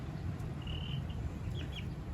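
Chickens cluck softly in a chicken tractor on a farm, a few short calls over a steady low outdoor hum, quiet and without talk.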